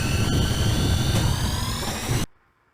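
A Williams The Getaway pinball machine kicking in its turbo boost, a loud, dense roaring whoosh like a revving jet that holds steady for about two seconds and then cuts off abruptly to near silence.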